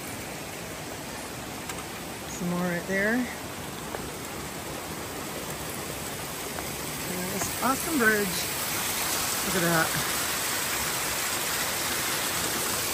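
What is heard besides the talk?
water trickling out of mountainside toward creek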